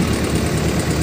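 A farm tractor idles steadily up close, its engine a continuous rumbling drone with a faint vibrating pulse and no voices over it.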